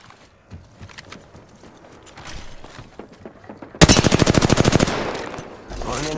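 Rapid automatic gunfire in the Apex Legends battle royale game erupts loudly at mid-clip as a fast, even burst of about a dozen shots, after quieter scattered game noises and distant pops.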